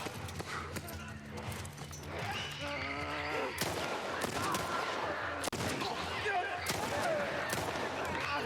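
A shotgun fires in The Last of Us, giving a few sharp, loud blasts spaced through a dense mix of game sounds, with voices and rhythmic hoof-like clatter earlier on.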